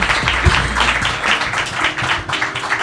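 Dense audience applause from a studio crowd, steady and fairly loud throughout, a continuous wash of many hands with no clear gaps.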